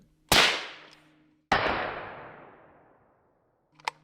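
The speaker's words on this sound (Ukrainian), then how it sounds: "Що ж, стріляємо у лівий бік." AR rifle firing 8.6 Blackout supersonic rounds outdoors: two sharp, loud cracks about a second apart, each trailing off in a long fading echo, with a faint hum and brief click near the end.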